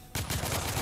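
A single loud gunshot from a firearm in The Order: 1886 bursts out after a short quiet moment and carries on with rapid rattling follow-up shots and echo.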